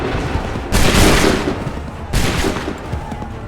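Musket volleys in a video game battle: two loud crackling bursts of massed gunfire, each a dense ragged fusillade that lingers briefly, close and dominant, with battlefield noise between.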